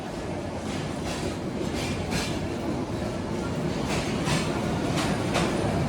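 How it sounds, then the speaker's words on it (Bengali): The Parabat Express train pulls into Dhaka Airport railway station, a loud, steady rumble of rolling carriages with rhythmic clickety-clack from the wheels on the rails, close by and continuous throughout. "এই যে আমাদের পারাবত এক্সপ্রেস ট্রেন এইমাত্র প্রবেশ করলো"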